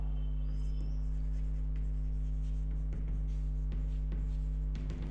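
Pen strokes scratch faintly on paper in short scattered marks, nearly buried under a loud steady electrical hum, with no speech.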